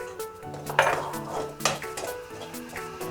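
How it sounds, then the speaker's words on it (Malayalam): Garam masala is sautéed in a home kitchen pan while a spoon stirs and scrapes, with repeated metallic clinks and soft sizzling at a moderate, close level. "ഇതൊന്ന് പച്ചമണം മാറുന്നത് വരെ ഒന്ന് വഴറ്റിയെടുക്കുക."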